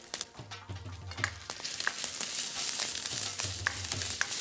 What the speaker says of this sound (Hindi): ये देखिए करी पत्ता डाल देते हैं इसमें